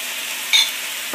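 Beet juice poured over meat in a hot pan makes a short, close, steady sizzle with a faint brief hiss in the middle.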